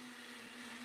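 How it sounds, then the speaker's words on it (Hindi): A kitchen mixer grinder running continuously, a loud steady whirring motor whine with an even hum from start to finish, no speech. "मिक्सी चल रहा है।"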